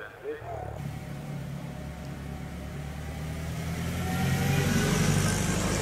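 Vintage 4.5-litre Bentley with an aluminium four-seater body at the Prescott hillclimb, its engine a low rumble that grows louder as the car nears, under a commentator's voice.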